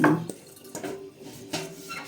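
Dishes, pots and pans being washed at a kitchen sink: a few scattered clinks and knocks of crockery and cutlery with light water sounds, fairly faint and close.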